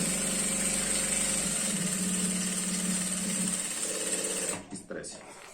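A sewing machine runs continuously at an even fast whir while stitching a girl's skirt, then stops near the end leaving a few short mechanical clicks.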